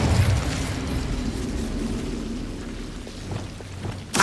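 Incendio fire spell cast in the Hogwarts Legacy video game, a loud rushing burst of fiery roar that sustains for several seconds and then fades, with a sharp crackle at the end.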